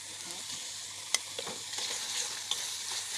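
Spices and mango pickle fry in a pan for lentil dal, giving a steady close sizzle broken by a few stirring scrapes and light clicks of a utensil on the pan.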